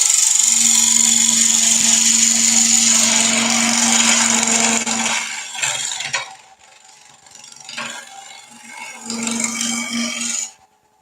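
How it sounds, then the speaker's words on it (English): A bowl spins on a wood lathe while a negative rake scraper works it: a loud, steady whirring scrape for about five seconds, then quieter, broken scraping that swells again before stopping. "I would normally spend a little bit more time with the negative rake scraper, sweetening that up a little bit"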